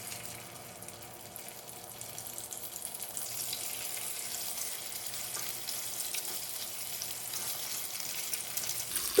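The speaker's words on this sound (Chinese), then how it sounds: "把腐竹呢煎制一下。" Yuba (tofu skin) fries in about 20 grams of cooking oil in a hot pan. A soft, steady sizzle hisses quietly throughout and grows a little fuller partway through, with no talking.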